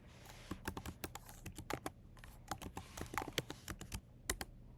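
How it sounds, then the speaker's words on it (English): Quick keystrokes clatter on a computer keyboard in short irregular bursts, close and fairly quiet, with no talking. "I'm typing something like animation."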